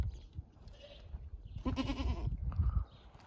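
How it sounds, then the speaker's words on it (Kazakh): A hornless goat on a small farm bleats nearby, with a short, loud harmonic cry standing out over low rustling and handling noise. "Мынау тоқал ешкі."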